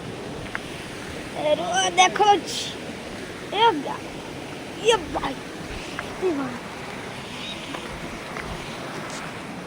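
The Dhadhai waterfall gives off a steady, broad roar of falling water outdoors, with wind buffeting the microphone at times. People talk loudly over it in short bursts.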